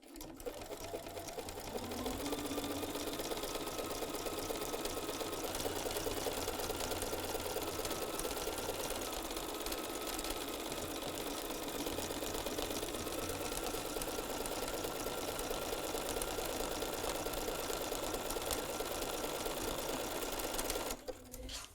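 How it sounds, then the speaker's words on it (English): A BERNINA sewing machine stitches a buttonhole on a hanging towel, a loud, steady rapid motor whir with fast needle clatter running unbroken for about twenty seconds. "I am going to go ahead and set the BERNINA up to do the buttonhole stitch"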